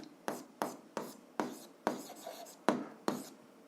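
Pen or chalk strokes during a seventh-grade algebra lesson: about seven short, distinct scratching bursts in an uneven rhythm, close and fairly quiet, with no talking.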